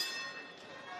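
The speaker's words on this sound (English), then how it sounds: "Ringing the bell gets us started." A kickboxing ring bell rings at the start of a Muay Thai-style bout, its sustained metallic tones hanging over crowd noise in the arena.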